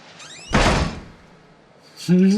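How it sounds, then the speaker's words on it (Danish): A door slams shut in the horror video game Outlast, a single sharp, loud thud in the middle, with people talking just before and after it. "Hvorfor smækker han døren?"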